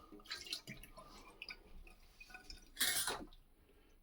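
Water trickles and drips as a cup is emptied beside a Sage espresso machine, with soft intermittent drips capped by a brief louder splash of pouring near the end; fairly quiet and close.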